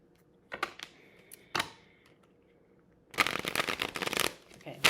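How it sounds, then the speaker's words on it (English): Tarot cards being shuffled by hand, a few brief riffles and taps, then a dense sustained run of rapid card flutter lasting nearly two seconds, close and clear with no speech. "let me shuffle."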